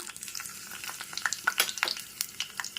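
Hot oil sizzles in a pan on an Indian home stove, ready for dried red chillies for brinjal bajji, giving a close, continuous crackle dense with small pops and spits.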